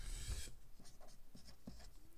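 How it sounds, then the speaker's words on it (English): Numbers are written down by hand, a faint close scratching of pen strokes in short repeated bursts with quiet pauses between. "I'll write them down"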